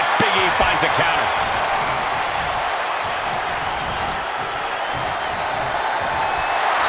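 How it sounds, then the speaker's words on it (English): A wrestling arena crowd at a SmackDown tag team title match roars in a loud, sustained wash of cheering and noise, with a commentator's voice faintly under it at the start. "The sound of this crowd is deafening, and he's asking for more."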